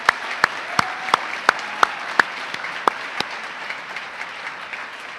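A small group at a school assembly gives sparse, rhythmic clapping for the Associated Student Body. The distinct, crisp claps arrive at a steady beat and then thin out and soften toward the end.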